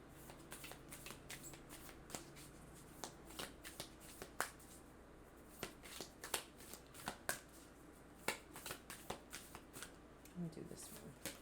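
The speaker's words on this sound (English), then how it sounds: "Now let me pull an oracle card." Oracle cards being shuffled for a tarot reading, a steady run of crisp papery riffles and soft snaps close to the microphone, with quiet talk underneath.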